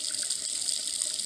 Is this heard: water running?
yes